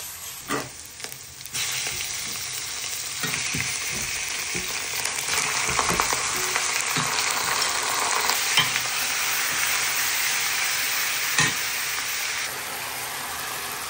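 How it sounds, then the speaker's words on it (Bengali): A pan of chopped onions frying in oil with a constant hissing sizzle, occasional clanks and scrapes of stirring, close by and without voices. "পেঁয়াজটা ভাজা হইলে তারপরে মাংসটা দিয়ে দিব।"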